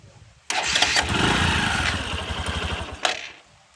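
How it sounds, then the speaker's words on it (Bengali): A motorcycle engine, just rebuilt with a new oil seal, cranks and catches with a sudden close burst, runs roughly for a few seconds, then cuts out. "ইঞ্জিনে শুধু আওয়াজটা শুনবে"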